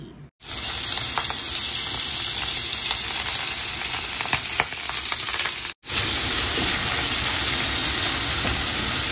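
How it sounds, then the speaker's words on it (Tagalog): Shogayaki, Japanese ginger pork, fries loudly in a pan with a dense, continuous hissing sizzle, broken once by a brief dropout before the frying resumes at full strength. "Cooking sugayaki."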